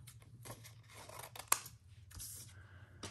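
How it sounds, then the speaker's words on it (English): Scissors snip through a paper print at a craft table, a few short crisp cuts and rustles close by with one sharp snip standing out, no talking. "So let's see if I can cut it out of the print"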